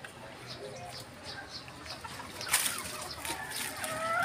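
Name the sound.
young gamecock rooster clucking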